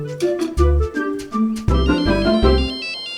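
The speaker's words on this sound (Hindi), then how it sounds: "मैं श्रवण को फोन कर लेती हूँ।" Phone ringtone heard while an outgoing call is placed: a loud, repeating melodic ring with no voices over it.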